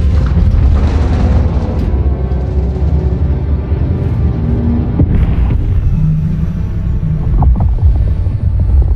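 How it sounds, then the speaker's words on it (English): Orbital thrusters engage in the video game Helldivers 2 with a loud, sustained deep rumbling roar that swells early and then holds steady for several seconds, with no talk. "Engaging orbital thrusters."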